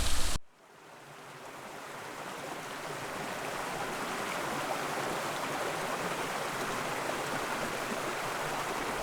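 Rainforest waterfall near Byron Bay with modest flow, a steady broadband rush of falling water heard after a brief sharp start, even and unbroken with no voices.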